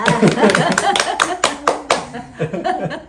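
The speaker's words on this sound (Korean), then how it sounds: "박수로 칩시다" A few people clap their hands at home in a short, uneven burst, mixed with laughter and overlapping talk, the claps sharp and close.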